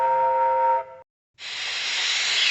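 A steam locomotive whistle in an HO/OO model train story sounds a strong sustained tone, breaks off into a brief silence, then gives way to a loud, broad hiss of escaping steam.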